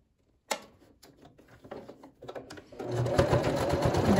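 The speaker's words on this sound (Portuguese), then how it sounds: "costura até mais embaixo um pouquinho para não desmanchar aquela costura de fechamento da lateral" A sewing machine stitches the seam of a fabric clutch wallet, starting with a few slow separate stitches and then running into a fast, steady buzzing whir close to the microphone.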